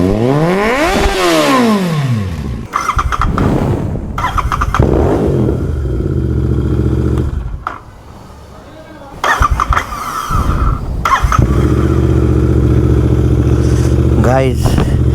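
Royal Enfield Continental GT 650 twin revving hard with a jammed throttle, loud sweeping rises and falls in pitch, a brief lull, then sustained high revs close by, with people talking over it.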